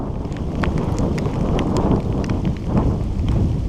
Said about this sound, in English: it's just hailing like a little rain shower